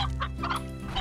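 Chickens from the video game Slime Rancher clucking in quick, closely spaced calls, near and fairly clear, with no speech.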